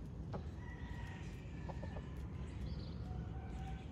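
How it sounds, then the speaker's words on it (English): Chickens cluck softly in the distance on a street in the Dominican Republic, a few scattered calls over a constant low background rumble. "There's chickens everywhere."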